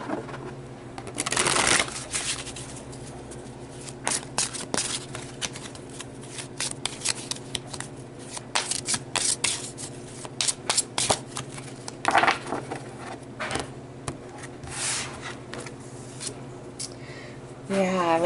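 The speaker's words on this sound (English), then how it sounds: "So I'm going to draw one more card for advice." Tarot cards shuffled by hand during a reading, with repeated crisp riffling and slapping bursts, close and clear, separated by brief pauses and softer handling sounds.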